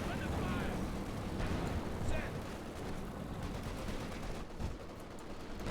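Company of Heroes 2 battle with machine gun fire and artillery bombardment from a German panzer force, a dense, continuous roar of rattling gunfire and booming blasts that stays loud throughout.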